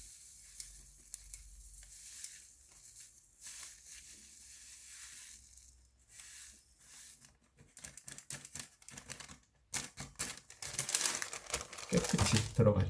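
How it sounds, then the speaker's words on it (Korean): Powder, used for a rice-water EM mix, is poured carefully into a small container, heard as faint, soft granular rustling that grows into brief hissing bursts toward the end of an otherwise quiet stretch. "가루가 흐르지 않도록 조심스럽게 따라 주시면 돼요."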